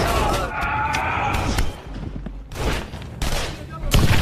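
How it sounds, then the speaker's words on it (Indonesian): A film gunfight in which soldiers on reconnaissance are discovered by the enemy: rapid, loud bursts of rifle and machine-gun fire come in clustered volleys with short gaps, close and harsh, with talk faintly mixed in. "sehingga terjadilah baku tembak."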